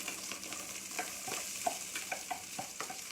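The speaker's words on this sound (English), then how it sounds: "Alright, give it a quick stir. And in go all these vegetables." A ladle stirs quinoa and vegetables in a pan, with soft repeated scraping clinks over a faint, steady sizzle, close and fairly quiet.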